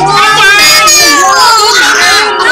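A loud, close, drawn-out cat meow that wavers in pitch, with a few nearby voices.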